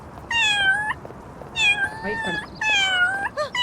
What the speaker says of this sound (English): All you want to do is you just want to meow.